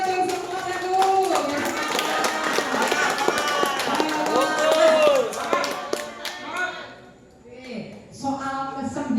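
Applause for teachers from an audience at a national Quran quiz final, a dense run of clapping that thins out near the end while people talk over it.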